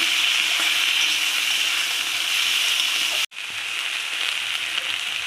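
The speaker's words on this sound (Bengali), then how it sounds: "এবার একসাথে এটা একটু কষিয়ে নেব।" Tomatoes and slit green chillies fry in a pan over a high gas flame, giving a steady close sizzle that breaks off abruptly for a moment, then resumes slightly quieter.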